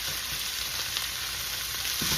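Celery being stir-fried in a pan gives a steady, bright sizzle at close range, continuous from start to finish with no talking.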